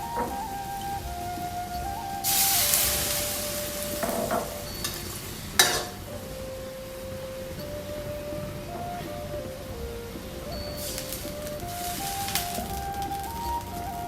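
Egg stir-fried in a wok with sunflower sprouts, mushrooms and tofu: a steady, close sizzle runs throughout, broken by scraping stirs and the occasional clank of a utensil.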